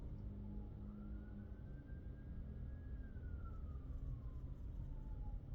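A distant emergency vehicle siren sweeps up and slowly back down in one faint, drawn-out wail, set against a low, constant rumble of traffic outside.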